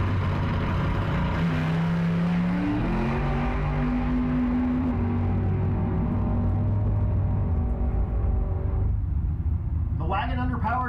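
A 1963 Nova pulls away at a drag race, its engine rising through gears with clear pitch climbs and a heavy low rumble while an announcer talks over it; near the end the engine fades and crowd noise comes up.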